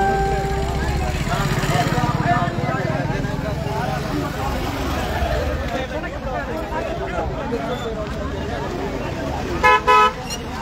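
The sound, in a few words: road traffic with cars honking at an accident site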